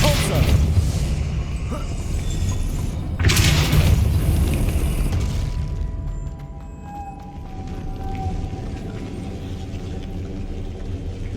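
A Depulso force spell cast in the Hogwarts Legacy video game lands as two heavy booming blasts with rumbling tails, loud and close, followed by a lower, steadier rumble.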